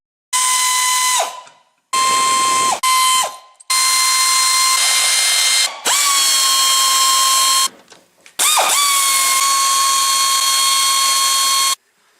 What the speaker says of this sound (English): you'll need a 10mm socket and a 13mm socket to remove the 6 13mm bolts and 11 10mm bolts